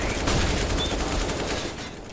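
Gunfire in Counter-Strike on the Vertigo map: a dense, continuous rattle of rapid shots at steady loudness for about two seconds, with a little faint talk.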